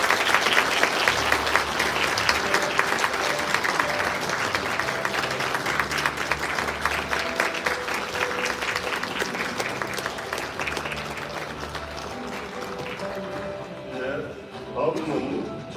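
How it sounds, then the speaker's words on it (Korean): Audience applause at a formal inauguration ceremony in Korea's National Assembly hall, steady sustained clapping from a crowd that gradually thins toward the end, with faint talk underneath. "자리에 앉으실 때까지 계속해서 박수 부탁드립니다."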